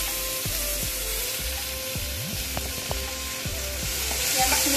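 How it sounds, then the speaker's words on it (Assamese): Onions frying in hot oil with two dried red chillies, left over from frying fish, sizzling steadily close up with a few spatula scrapes and knocks against the pan, no voices. "পিঁয়াজখিনি ভালদৰে ভাজিম ৰঙা হ'বলৈকে"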